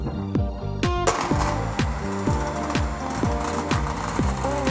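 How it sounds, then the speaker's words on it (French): An electric mixer whisks egg whites at low speed for French meringue, making a steady motor whir with rhythmic, repeating pulses of the beaters against the bowl. "Je vais commencer à fouetter les blancs à faible vitesse pour les faire mousser."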